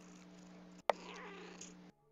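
A cat gives a short, steady, droning purr-like meow, close and clear, that cuts off abruptly, with no voices.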